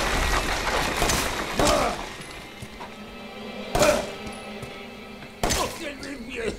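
A few sharp pistol shots in Resident Evil 7 Biohazard, spaced a couple of seconds apart, over a steady background of game sound.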